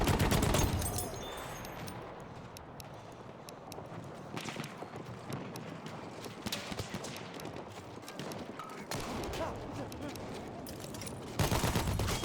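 Enemy machine gun fire rattles in a video game as dense, continuous bursts of gunfire over a busy battle din, with a louder burst near the end.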